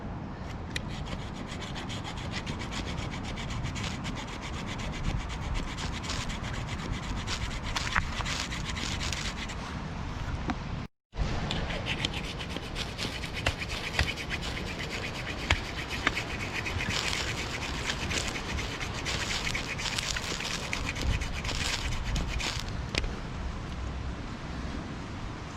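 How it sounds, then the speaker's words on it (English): A small multi-tool file rubbed back and forth over the edge of a bushcraft scraper, a steady, continuous rasping and scraping close by with one brief silent break partway through, no talking. "I've got a file for a multi-tool, and what I'm going to do is give it a rub down just to take that ramping out"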